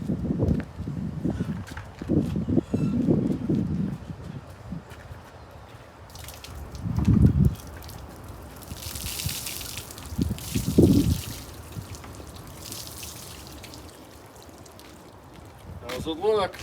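Water poured onto a freshly sawn log at a sawmill, heard as dripping and trickling splashes in a few louder bursts against low background noise.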